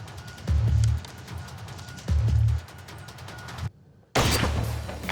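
A rifle is fired at a rope target at a shooting range in a test of a movie trick shot, with several loud, close, booming reports at intervals and a brief silent gap before the last one.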